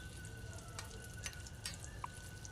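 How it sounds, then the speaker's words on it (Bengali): Fish fingers frying in oil over medium-low heat give a soft, even sizzle with scattered small crackles and pops. "এটাও মিডিয়াম লো আছে ভাজতে হবে 5-6 মিনিট ধরে।"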